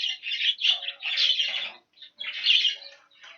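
Hens being sorted in a shed give off bursts of squawking, chirpy calls and wing flapping, close and irregular, with a short pause midway and no talking.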